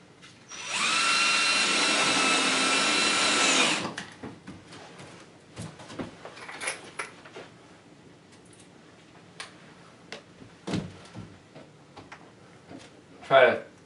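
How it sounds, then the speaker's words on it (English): A power drill drives screws into a faux brick panel during installation: one loud continuous whir of about three seconds, followed by quieter scattered knocks, clicks and handling noises. "so now we can screw these in. We can screw this in permanently."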